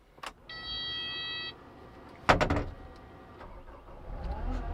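A skid steer engine cranks and catches, a sharp burst of ignition that settles into a low steady idle, preceded by a brief electric whine and a click.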